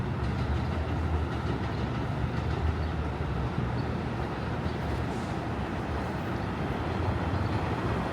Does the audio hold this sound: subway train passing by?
yes